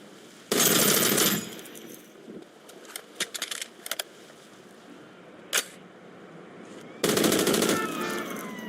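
Automatic gunfire from Grand Theft Auto San Andreas comes in two long, loud bursts at the start and end, with a few shorter shots and clicks between them.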